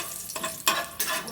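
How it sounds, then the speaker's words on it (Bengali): Bay leaves, cinnamon and cardamom frying in hot oil for an aloo dum with kohlrabi, stirred with a couple of sharp scraping strokes over a steady close sizzle, no talking. "দেখুন এটাকে আমি একটু নাড়াচাড়া করবো।"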